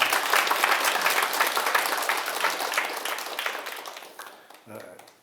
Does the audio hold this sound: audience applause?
yes